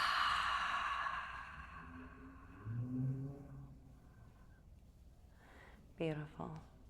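A deep, slow exhale during yoga breathing flows as a soft, airy rush of breath, followed by a quiet, calm voice.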